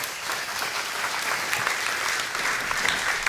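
A church congregation claps warmly to welcome a guest speaker onto the stage, with dense, sustained applause that fills the room from start to finish.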